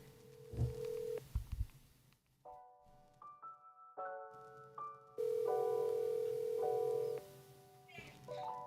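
A telephone dials out to place a call. A run of distinct tonal beeps is followed by steady sustained tones, with a little background noise and brief talk at the start.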